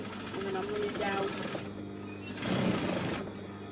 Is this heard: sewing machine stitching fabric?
yes